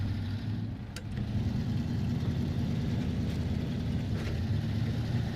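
A truck with a newly fitted engine in the SnowRunner video game drives along with a continuous mid-pitched engine drone, steady and fairly close, with faint clicks now and then.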